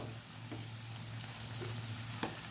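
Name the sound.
deep frying karachikayi sweets until golden brown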